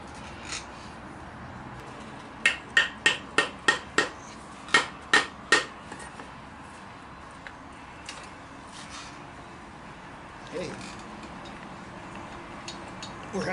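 A hammer strikes metal in a quick burst of about eight sharp, ringing taps, followed by quieter background noise and faint shuffling.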